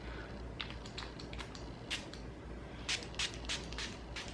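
Farmacy Skin Dew Hydrating Essence Mist and Setting Spray with Echinacea Green Envy being sprayed in several short hissing bursts, close and fairly loud over a soft background hum, with no talking.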